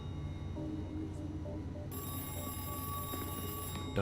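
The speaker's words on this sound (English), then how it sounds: "And the phone starts ringing just as you open the door?" A red telephone in the Missing horror game begins to ring, a shrill bell tone cutting in midway over a quiet droning backdrop and continuing steadily to the end, no voices present.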